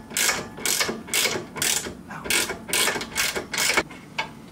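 A ratchet clicks in repeated quick bursts, nearby and fairly loud, as the 17mm bolts on the sway bar end links of a Subaru WRX are loosened in a garage.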